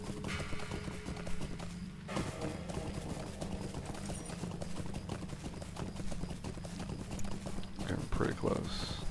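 Horse hooves clip-clop steadily while riding a mount in Lord of the Rings Online, a continuous rhythmic trot under game music and ambience, with no one talking.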